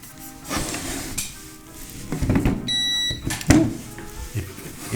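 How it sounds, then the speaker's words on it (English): A short electronic beep rings out from a Phrozen Sonic Mini 4K resin 3D printer amid clicks, thumps and mechanical handling noises nearby, with quiet tonal hums underneath. "It beeped."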